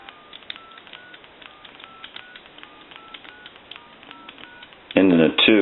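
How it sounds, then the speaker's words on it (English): Short electronic dialing tones beep in quick succession as telephone numbers are punched in an animated Disney Princess telephone repair game, followed by a brief burst of game voice or sound at the end. "Go ahead and dial some numbers."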